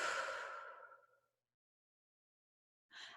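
Deep breathing close to the mic: a long, airy exhale fades out over about a second, then silence, then the next breath begins softly.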